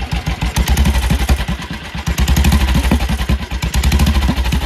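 A 1941 BSA M21 600cc wartime motorcycle engine is blipped, its single cylinder thumping in rapid loud pulses that rise and fall with the throttle, close up and continuous.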